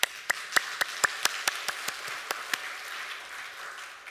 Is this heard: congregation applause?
yes